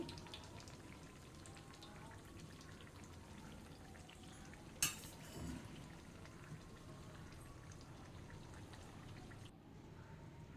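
Chalividi pongadalu sweets sizzle in hot oil over a medium flame, a steady crackling fry with a soft burst of spattering midway through.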